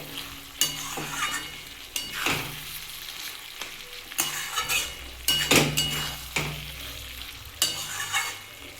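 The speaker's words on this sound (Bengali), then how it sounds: "এবার আমি একটু ধনে পাতা দিয়ে দেবো দিয়ে একটু নাড়িয়ে দেবো" Flat beans and potatoes with fresh coriander leaves are stirred in a sizzling pan, the spoon scraping and clinking at irregular intervals over a steady frying hiss.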